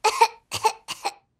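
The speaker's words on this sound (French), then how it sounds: "Ce n'est pas Coco qui a toussé." A Peppa Pig cartoon child character gives three short, close coughs in quick succession, each a double burst with brief pauses between.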